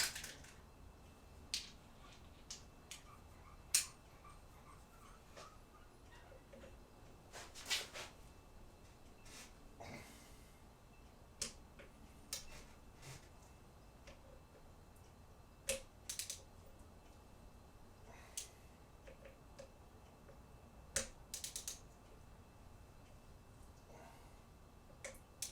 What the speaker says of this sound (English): So now all I need to do is just torque these down and ready to put it on the bike. Trusty torque wrench.